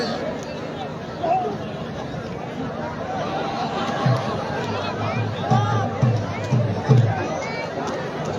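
A crowd gathered around a Sindhi malakhro wrestling bout keeps up a steady murmur of chatter, with bursts of louder voices and a few sharp thumps rising near the end.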